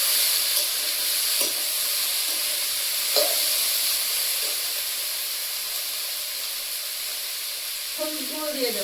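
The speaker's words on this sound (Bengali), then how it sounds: "তেলে দিয়েছি শুকনো লঙ্কা আর দিচ্ছি একটু গোটা জিরে" Dried red chillies and whole cumin seeds fry in hot oil in a wok, giving a steady, close sizzle and hiss with a few faint stirring clicks throughout.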